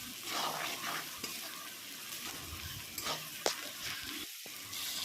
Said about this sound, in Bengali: এবার নুন দিয়েও ভালো করে পেঁয়াজটা আমি ভেজে নেব